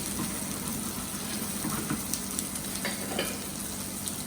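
Chopped tomatoes tipped into a hot pan of chicken chasseur with tarragon, setting off a loud, dense crackling sizzle with scattered spits and pops, close and continuous, no voices.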